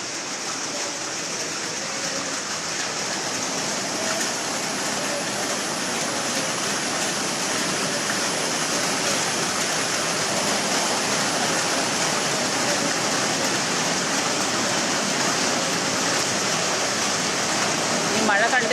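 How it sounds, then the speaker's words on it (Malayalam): Heavy rain pours steadily in Thrissur, a dense, continuous broadband roar of rainfall close by that holds constant for the whole stretch with no voices over it. "ഞങ്ങൾക്കിവിടെ തൃശ്ശൂർ ഭയങ്കര മഴയാണ്"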